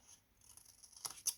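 Scissors snip through paper being cut for a collapsible Stampin' Up! box: two short, quiet cuts close together near the end, after a near-silent stretch.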